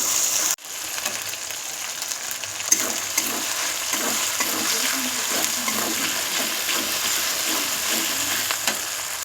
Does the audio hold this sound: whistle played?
no